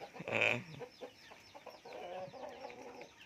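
Fighting cocks at a breeding farm give a sharp, loud squawk near the start, then softer clucks and scattered bird calls follow at moderate distance, with farm ambience underneath.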